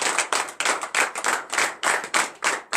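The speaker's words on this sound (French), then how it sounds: "Donnez-moi une acclamation." A church congregation at a Saturday morning prayer service in Benin claps in acclamation, with about ten loud, close, evenly spaced bursts of clapping in a brisk steady rhythm.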